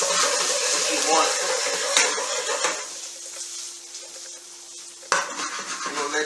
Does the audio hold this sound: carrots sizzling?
yes